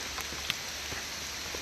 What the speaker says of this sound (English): this is the third time it's been raining hard